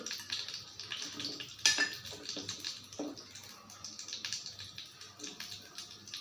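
Mustard seeds and urad dal spluttering in hot oil give a dense, steady crackle of tiny close pops, with one sharper burst early on and no voices.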